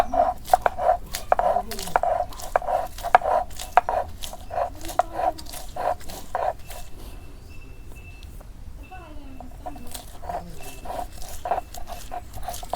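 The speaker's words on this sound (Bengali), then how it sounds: "এই যে দেখুন আমার রসুন বাটা হয়ে গেল" Garlic is crushed on a traditional flat stone slab with a rolling stone, giving close, rhythmic scraping and grinding strokes in quick succession, a short pause, then more grinding.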